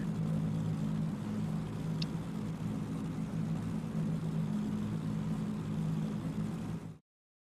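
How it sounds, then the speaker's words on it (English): Engines in a virtual drift racing game hum steadily as V8s idle and rev, a continuous droning mechanical tone with a faint chirp of crickets, then cutting to silence. "you can hear the crickets from the track and 2J's V8s, you know, revving up and getting ready"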